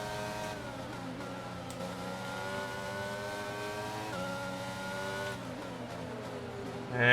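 An F1 race car engine in the F1 2022 video game, the car slightly damaged at the front left, revs hard and continuously with a loud, high whine that shifts through gear changes, close and alone.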